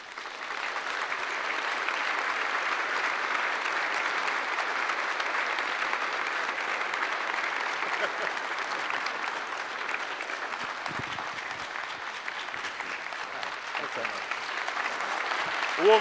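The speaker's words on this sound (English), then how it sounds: "A warm round of applause." Sustained applause from a conference audience, steady and broad for the whole stretch with no break, filling the room at an even level.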